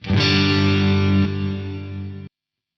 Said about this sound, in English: It's a gated reverb.